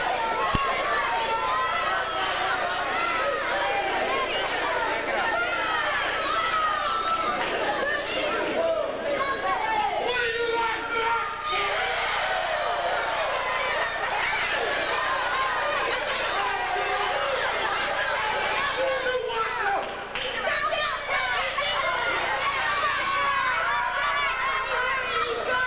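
A wrestling crowd keeps up a continuous roar of cheering and chatter, a dense babble of many voices that rises and falls without pause, with a commentator talking over it.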